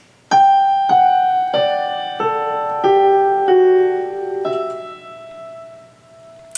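Piano plays the right-hand melody line of a song as single sustained notes, about seven struck one after another with each ringing into the next, clear and close with no talking.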